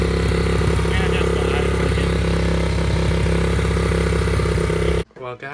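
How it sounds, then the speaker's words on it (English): A Baja Motorsports dirt bike, revived after sitting for years, runs loudly and steadily nearby with a clattery mid-pitched engine note, then cuts out abruptly near the end as a person starts talking. "dirt bike runs and drives, and it's fun"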